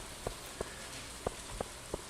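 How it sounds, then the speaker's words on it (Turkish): Rain falls in the farming video game Stardew Valley, a steady soft hiss with a few faint droplet ticks scattered across it, alone and quiet. "Yağmur yağdığından köyde kimse yok."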